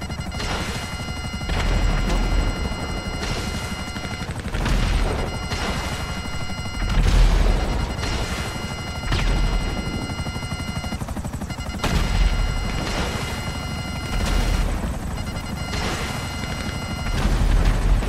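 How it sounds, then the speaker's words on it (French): Video game helicopter hovering with a steady rotor drone while its automatic gun fires repeated bursts and impacts crash, loud and continuous for the full stretch. "là l'hélico il vise automatiquement"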